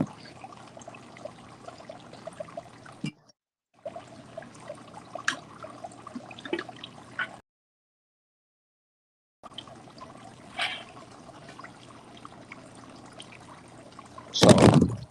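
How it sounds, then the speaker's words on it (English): Water from a fountain trickles and splashes in a steady, moderate stream, broken by two short silent gaps, with a louder burst of splashing near the end. "No, that's just the water, the water from the fountain kind of thing."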